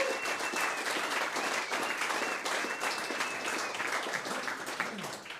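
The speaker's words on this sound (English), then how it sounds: "If we could give Compass a round of applause here," A meetup audience applauds steadily at moderate volume, dense even clapping from a room of people, with a faint sustained tone and some murmuring underneath.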